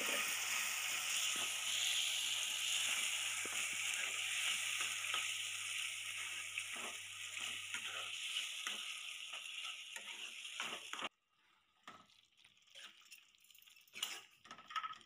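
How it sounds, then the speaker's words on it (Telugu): Amaranth leaves stirred into a spicy, sour tamarind gravy in a pan, a soft simmering sizzle with repeated scraping stirs that stop abruptly, leaving only faint scattered clinks. "ఇప్పుడు తోటకూర వేసి మొత్తం కలిపి 2 నిమిషాలు ఉడికించండి."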